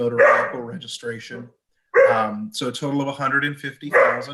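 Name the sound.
dog barking in the background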